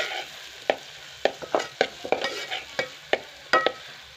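Spoon stirring a turmeric and chilli spice mixture in hot oil for a Marathi home-style tempering, with repeated scraping strokes over a steady low sizzle, close and moderately loud, no voices.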